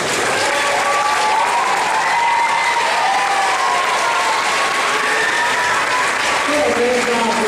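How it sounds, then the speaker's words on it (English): Loud, sustained applause from a crowd of parents and guests at an elementary school graduation ceremony, continuous clapping filling the room from start to finish. "would you stand at this time so we can give you a round of applause?"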